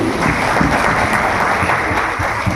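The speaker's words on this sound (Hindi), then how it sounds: "एक बार जोरदार तालियां अपने लिए।" An audience at a direct-selling achievers' celebration event claps in a loud, thick wash of applause, continuous and close throughout.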